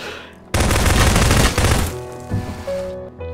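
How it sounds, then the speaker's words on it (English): Repeated grenade launcher blasts and explosions in Garry's Mod Prop Hunt, a dense loud burst of booming shots lasting over a second, then scattered thuds and fainter impacts with game music tones underneath. "Who's that shooting grenades?"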